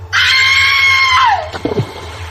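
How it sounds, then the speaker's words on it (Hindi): A woman's terrified, high-pitched scream as she falls into a village well, loud and sustained, then sliding downward and breaking off into a few short fading sounds. "एक भयानक चीख के साथ वो उस कुएं में गिर गई"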